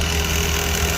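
Engine bay of a 2015 Hyundai Accent with a belt rubbing, giving a steady, close, continuous whirring drone over the running engine, no voices.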